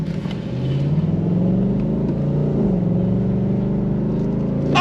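A 2025 Ford Mustang GT 60th Anniversary Edition V8 on standard exhaust accelerates on throttle, a steady, close engine drone with a rising pitch that holds for several seconds.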